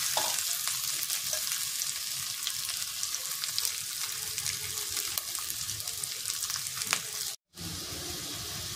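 Steady, close sizzling and crackling of boiled chicken pieces frying in a pan, with occasional stirring scrapes and a brief dropout near the end.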